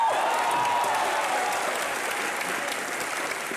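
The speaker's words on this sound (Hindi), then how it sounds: "मिस्टर इंडिया के लिए तालियां बजाएं पहले" A studio audience at a comedy show gives a steady wash of dense applause, even and sustained throughout, with a faint tonal whistle briefly rising above the crowd noise at the start.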